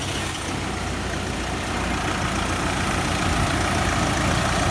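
A vehicle engine being serviced for a turbo boost solenoid change runs at a steady idle, a loud, continuous low rumble that holds even throughout with no talk.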